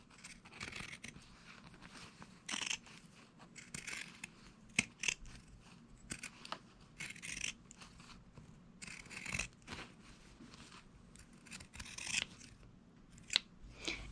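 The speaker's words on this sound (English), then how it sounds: "we're going to trim this seam allowance again using the pinking shears" Pinking shears trim the seam allowance of a lace face mask, a run of quiet, crisp snipping cuts with short pauses between them, close by and alone with no talking.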